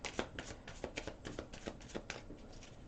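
Slippery tarot cards are shuffled by hand, a quick run of soft riffling slaps in rapid rhythm, close and fairly quiet, with no voices.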